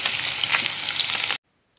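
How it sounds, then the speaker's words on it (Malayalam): Paneer cubes frying in hot oil in a pan give off a steady, dense sizzle for over a second, then cut off abruptly into near silence. "എന്നിട്ട് അത് ചെറുതായിട്ടൊന്ന് ഫ്രൈ ചെയ്തെടുക്കണം"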